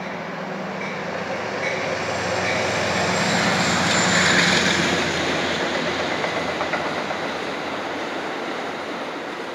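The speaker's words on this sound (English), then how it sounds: "Ooh, listen to the choo-choo train." A train passes by at night with a broad, steady rumble and rattle that swells toward the middle and eases off, without any talk.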